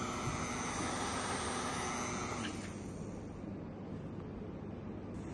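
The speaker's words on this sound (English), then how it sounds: "Fire detected, and the exhaust fan will turn on, and then it will suck the air out" An exhaust fan on a smart school model classroom gives a quiet, steady whirring drone whose brighter hum fades partway through.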